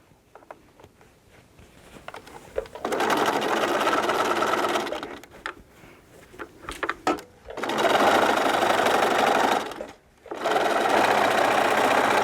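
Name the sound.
sewing machine stitching a curved basket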